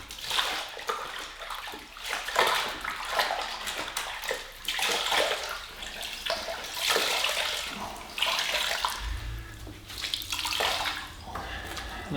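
Car wash towels are rinsed and swished in a bucket of water, giving repeated close sloshing and splashing bursts in an uneven rhythm.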